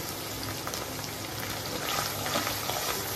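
Spices for egg korma, with coriander powder and bay leaves, frying in a pan, giving a steady low sizzle and crackle that runs evenly through the clip.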